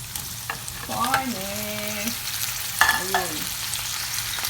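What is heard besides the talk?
pork rib meat frying with onions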